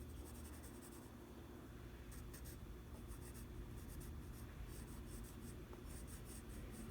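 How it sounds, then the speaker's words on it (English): Pencil strokes shading a drawing of a car on paper, a soft, steady scratching close to the microphone in repeated short bursts of half-circle motions, quiet and alone. "create a rounded effect by doing some half circles with my pencil strokes"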